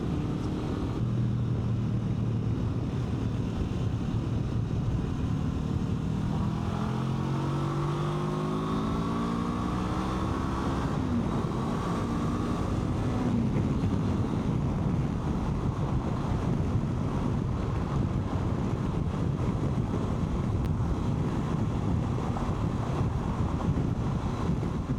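Honda NX500 motorcycle ridden at highway speed, with steady, loud wind rush buffeting the microphone behind the windshield and a low engine drone underneath, continuous for the whole stretch.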